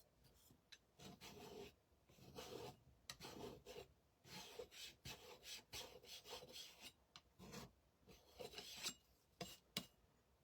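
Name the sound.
sanding a craft bird with a sanding block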